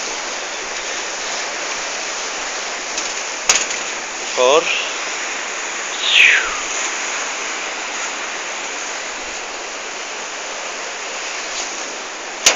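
A river rushes steadily over rocks below a bridge on the way to Cusco, a loud, constant broadband roar. Someone briefly speaks and a couple of short chirps break through the water noise.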